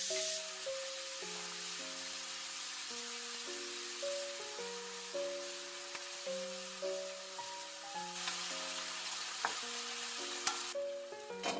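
Squid frying in oil in a pan gives a steady, loud sizzle and hiss throughout, with faint stirring clicks and occasional louder pops; no one speaks over it.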